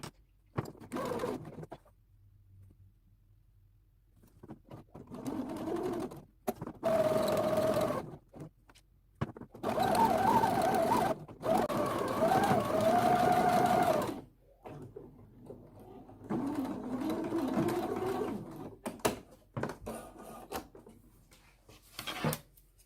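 A sewing machine runs a skirt seam in several bursts of steady mechanical stitching separated by quiet pauses, close and moderately loud, with no talk over it.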